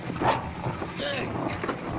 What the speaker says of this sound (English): What's the matter with the darn dog?